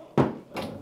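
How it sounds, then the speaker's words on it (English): A door is pushed shut in a room during a lecture, a single soft thump followed by a quieter second knock as it settles, with low room noise around it. "can I ask you a favor? Do me to close the door over there."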